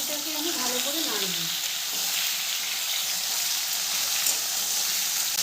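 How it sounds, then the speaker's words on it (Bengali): Jujube (kul) pickle stirred in a pan over a low gas flame, a steady soft sizzle and hiss running throughout, with a brief voice at the start. "গ্যাসের ফ্লেমটাকে লোতে রেখে কুলটাকে আমি ভালো করে নাড়ব।"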